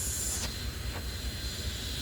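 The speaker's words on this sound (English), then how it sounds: "that is your fuel pump doing its job, giving you about 61, 62 psi at the fuel rail" An RV motor home's electric fuel pump runs inside its fuel tank with the exhaust off, pushing about 61 to 62 psi to the fuel rail. It makes a steady, even hum with a hissy wash, and the sound stays continuous and unbroken.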